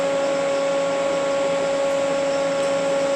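An automotive AC refrigerant recovery machine runs steadily while clearing its hoses, giving a constant loud motor hum with a strong tonal whine and no breaks.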